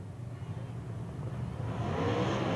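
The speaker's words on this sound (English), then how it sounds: "Green flag is out. We're racing." Late model race cars at Ocala Speedway pull away on a green-flag restart, a distant engine drone that swells in loudness toward the end as the field accelerates, with no clear speech.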